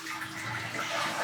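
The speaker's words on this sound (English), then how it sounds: "And then goes the flush." A smart toilet runs a small one-gallon flush, a steady rush of water filling the bowl at close range, with no talking.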